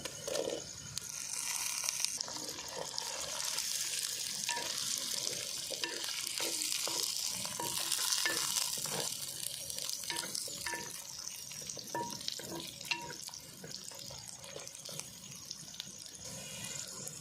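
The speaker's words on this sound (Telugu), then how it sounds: "ఇప్పుడైతే మనము మునక్కాయలు వేసుకున్నామండి ఆయిల్లో కొంచెం" Drumstick pieces frying in a little oil over a low flame for a Telugu curry, with a steady close sizzle and occasional clicks of stirring throughout, and no talking.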